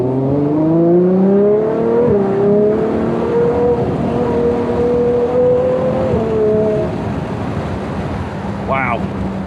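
Ferrari 812 GTS V12 accelerating hard from a standstill to 60 mph, its loud rising engine note climbing through several gears with brief dips at each shift, heard from inside the car with wind noise and a short chirp near the end.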